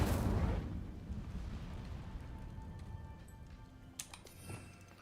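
Incendio fire spell cast in Hogwarts Legacy, a loud whooshing burst at the start that trails into a fading rumble, followed by a few faint clicks and small pops.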